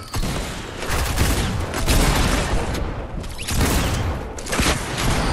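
Gunfire bursts crackle through a Fortnite Chapter 2 match, several volleys of rapid shots and booms in close succession, loud and dense.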